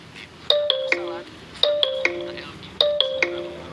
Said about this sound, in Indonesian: Sambungan telepon.